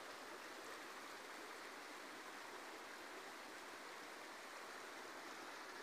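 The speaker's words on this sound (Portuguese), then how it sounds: "O rio tá enroscando na viga da ponte." A flooded river surges against a bridge beam after an overnight flash flood in General Carneiro, Brazil. It makes a steady, dense rush of water, faint and distant, unbroken for the whole stretch, with no voices.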